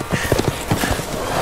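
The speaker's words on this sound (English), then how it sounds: "They ride horses?" Horse hooves clip-clop in a rhythmic, fairly loud series of hollow knocks in the Resident Evil Village video game, a brisk gait lasting about a second and a half.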